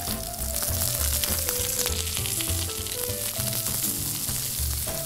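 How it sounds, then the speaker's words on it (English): A steak searing in a hot pan gives a dense, continuous sizzle, with a steady tonal hum running underneath throughout. "So while we're cooking the steak"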